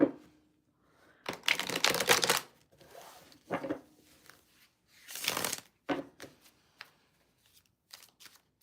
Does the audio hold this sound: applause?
no